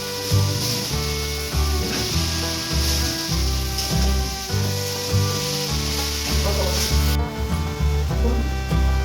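Leafy greens (note shaak) with a fish head are stirred in a frying pan, giving a continuous close sizzle with soft rubbing and scraping strokes over a steady low tonal hum.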